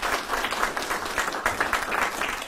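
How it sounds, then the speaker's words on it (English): Audience applause at a military promotion ceremony for two young men, steady dense clapping at moderate distance, brief and unbroken. "how about a round of applause for these two young men?"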